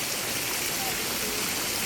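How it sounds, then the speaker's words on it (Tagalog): Spring water runs steadily from a natural source at a green nature bathing spot, a constant broadband rush with no breaks, fairly close, and no clear talk over it. "Running water. Galing siya sa bukal."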